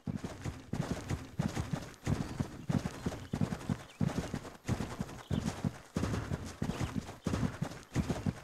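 Steady clip-clop of a horse's hooves walking in Mary King's Riding School 2, evenly paced beats repeating close and clear with no talk over them.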